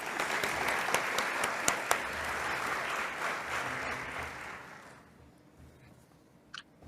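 Conference audience applauding to welcome speakers and panellists, a dense steady clapping from a crowd that fades out after about five seconds, leaving a quiet room with a brief faint sound near the end.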